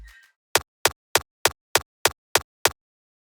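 A punchy electronic kick drum with its low end cut by EQ hits eight times in an even, quick rhythm, each a short clicky thump, loud and dry after a brief faint sound at the start.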